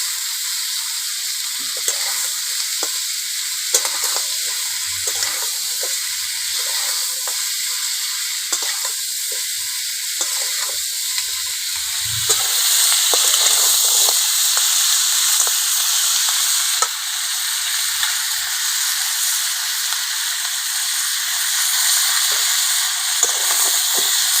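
Crab legs and thin crab claws frying in oil in a kadai for a spicy crab curry give a steady, close sizzle and hiss that swells louder partway through and holds without talk.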